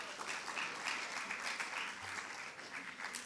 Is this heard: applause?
yes